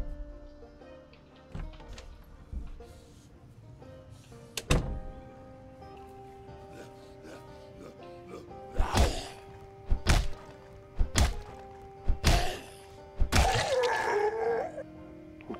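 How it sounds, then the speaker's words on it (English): A zombie bangs on a front door in Project Zomboid, a series of loud, hollow thumps hitting at irregular intervals and then quickening into a burst of heavy blows, with a groan and low game music underneath. "someone's banging on the front door"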